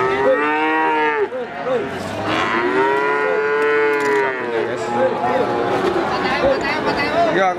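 Pregnant Ongole crossbred cows at an Indonesian cattle sale moo loudly and close, long drawn-out lowing calls that overlap across several seconds, while people chatter in the background.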